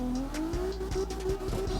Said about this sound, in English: See if that gives us the wheel speed to be able to pull this out of a big angle drift.